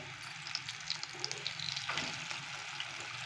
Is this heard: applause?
no